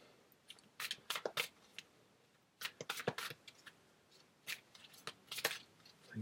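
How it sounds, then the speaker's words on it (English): A tarot deck is shuffled in a few quick bursts of crisp, close card riffling separated by short pauses, quiet overall. "Just a few card shuffles."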